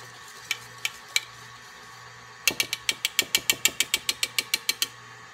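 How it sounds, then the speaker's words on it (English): Dry ingredients for oatmeal raisin cookie dough, including cinnamon and nutmeg, are whisked in a bowl: three soft taps, then a quick run of about sixteen sharp rhythmic clicks against the side, close and fairly quiet. "I've just whisked that together"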